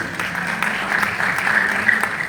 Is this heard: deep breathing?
no